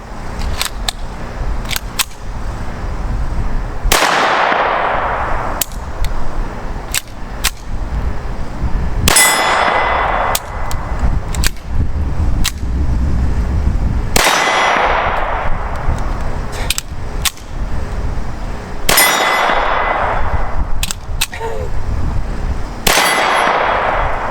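A .22 rimfire pistol fitted with a Sig 22 conversion kit fires Winchester M22 ammunition, producing a series of sharp, loud shots at irregular intervals with ringing echoes, plus lighter metallic clicks between them.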